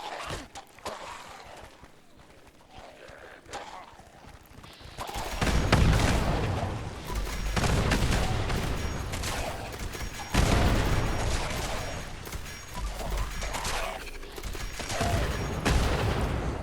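Gunfire and explosions from the Lickety-Split weapon among ghouls in the Fallout 76 video game: rapid repeated shots and booming blasts in dense overlapping bursts, growing louder after a quieter start.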